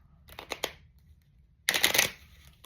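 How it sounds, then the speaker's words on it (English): A deck of playing cards being shuffled in two quick bursts, a short riffle of a few snaps followed by a louder, longer rush of flicking cards, close and alone in a quiet room. "we're gonna shuffle them one more time"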